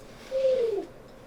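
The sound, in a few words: player imitating a bird call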